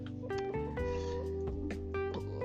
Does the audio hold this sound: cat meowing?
yes